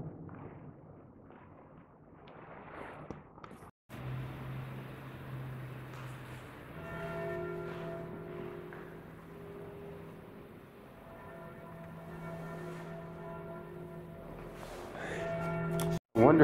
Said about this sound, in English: I mean, the bells are going again.